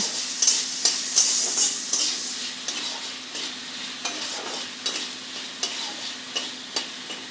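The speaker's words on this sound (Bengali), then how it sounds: "এবার আমি এটাকে ভালো করে লাল লাল করে ভেজে নেব।" Malabar spinach seeds with turmeric and salt sizzle in a frying pan while a spatula stirs them, a steady hiss punctuated by regular scraping taps, close by.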